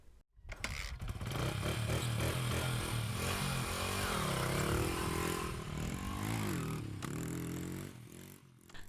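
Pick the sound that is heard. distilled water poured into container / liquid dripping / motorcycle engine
motorcycle engine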